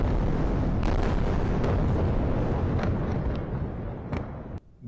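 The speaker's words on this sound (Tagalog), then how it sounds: "Malalakas na pagsabog ang umaalingaw-ngaw." Loud, continuous rumble of heavy explosions echoing across Gaza City during the Israel-Hamas war, a dense booming roar with scattered sharper bursts, dropping briefly near the end.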